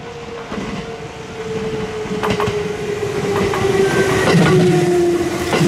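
Commuter train rolling slowly through Ise-Nakagawa station in rural Japan, wheels clicking over rail joints amid a rising rumble and a sustained metallic squeal, growing louder as it nears.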